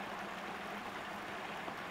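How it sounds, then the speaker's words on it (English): Steady running water in the game Syberia 2, a faint, even broadband rush with no breaks or other sounds. "The running water here is loud enough."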